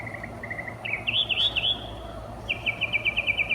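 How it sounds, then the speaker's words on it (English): A mockingbird sings nearby: short repeated chirps give way to a quick rising warble, and after a pause a fast run of bright, evenly spaced notes follows over faint background noise. "I just love mockingbirds."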